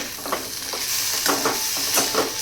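A spatula stirs fried potato with ground roasted peanut powder in a pan, producing a soft sizzle punctuated by several close scraping strokes in an uneven rhythm, with no talking.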